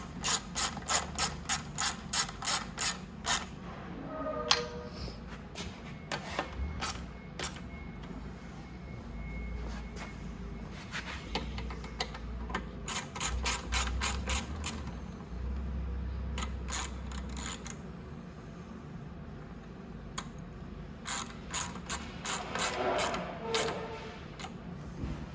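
Hand ratchet tightening the rear fender bolts on a Venom Roma 50cc scooter, repeated bursts of rapid close clicking separated by short pauses, loud and alone.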